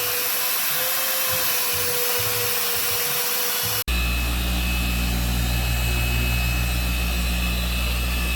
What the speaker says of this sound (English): these boys are enjoying this sanding and polishing